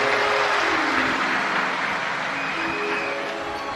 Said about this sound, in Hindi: एक बार सभी विदिशा वासियों के लिए जोरदार ताली बजाकर स्वागत, वंदन, अभिनंदन।